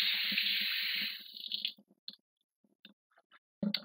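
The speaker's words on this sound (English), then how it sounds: "now we're just going to rinse them off, get the excess, make sure we clean off the top on both sides" Portobello mushrooms are rinsed under a running tap, with a steady rush of water for about a second that then stops, followed by faint clicks, drips and handling noises.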